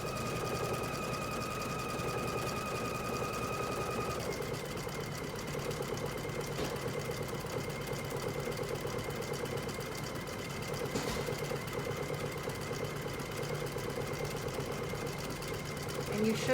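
An embroidery sewing machine runs a steady, continuous stitching whir as it tacks fabric layers down inside an embroidery hoop, a constant close mechanical hum with a faint higher tone fading after a few seconds.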